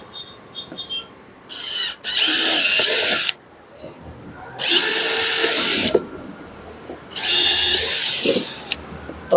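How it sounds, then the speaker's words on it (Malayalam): Cordless drill boring holes with an 8 mm bit, three sustained bursts of high whining drilling separated by short pauses, loud and close with no talk. "ഡ്രിൽ ബിറ്റിൻ്റെ ചിഹ്നത്തോട്ട് മാറ്റി നമുക്ക് തുളച്ച് നോക്കാം"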